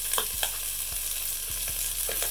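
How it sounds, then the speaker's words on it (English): A steady hissing sizzle of Italian sausage browning in a soup pot, with a few soft knocks and scrapes and no talking. "You can hear that beautiful sizzle."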